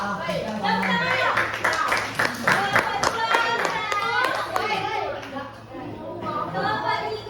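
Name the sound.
students applauding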